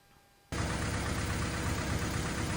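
After a half-second of near silence, a 1998 Honda Civic engine starts running at a steady, fairly high idle with a constant rumbling drone, after a thermostat replacement.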